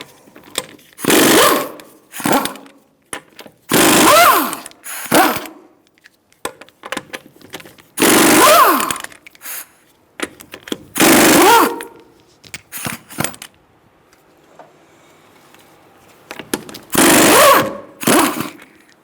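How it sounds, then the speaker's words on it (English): Lug nuts come off the front wheel of a 2014-2018 Subaru Forester with a 19mm socket on a power tool, loud rattling bursts of a few seconds each separated by quiet gaps and small metallic clinks. "I'm going to use a 19mm socket to take the wheel off."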